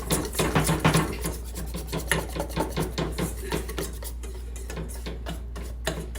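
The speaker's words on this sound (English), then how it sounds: "You have to keep stirring and stirring." Rapid scraping and ticking of a utensil stirred continuously in a pan while making cake decorations, an even rhythmic clatter over a low steady hum.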